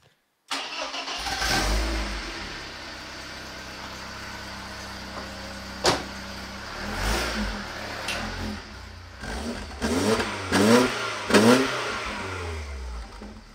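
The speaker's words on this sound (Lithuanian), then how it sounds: "Tai dabar darysim cold startą ir to pačiu pravažiuosim, pažiūrėsim, koks garsas važiuojant su mašina." A BMW E46 with a twin-loop exhaust box cold-starts with a cranking burst, settles into a low idle, then revs several times in short rising pulls.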